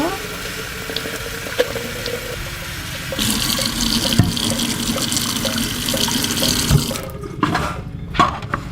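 Tap water running steadily to fill a chickens' waterer for newly hatched chicks, a continuous splashing gush that grows brighter midway and then cuts off near the end.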